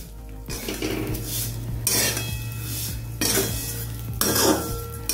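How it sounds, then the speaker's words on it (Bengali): Vermicelli frying in ghee in a pan, stirred with a utensil: repeated metallic scraping and clinking against the pan over a steady low sizzle, close and fairly loud, no voices. "সিমই বন্ধুরা আপনারা ঘি দিয়ে একটু ভাজবেন"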